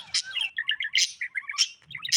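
A bird chirps in a video game in quick bright bursts of tweets and trills, clear and close, with short pauses between phrases.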